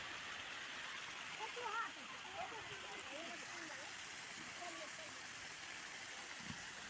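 Water plunges steadily down the tiers of Moti Jharna waterfall in Sahibganj, Jharkhand, a continuous broadband rush that fills the scene, with faint chirps or distant voices flickering over the constant roar.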